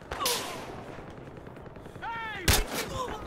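Gunfire in the shooter game Battlefield Hardline: a sharp shot near the start and another loud crack later, with game ambience and a short whistling effect between them.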